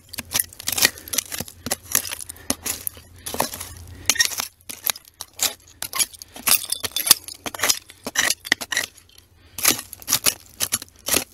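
Clear glass Atlas Strong Seal jar and other glass clink as someone digs through a 1930s dump, with many irregular, close, sharp knocks and chinks scattered continuously.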